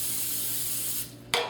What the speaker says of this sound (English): we're going to spray this with Pam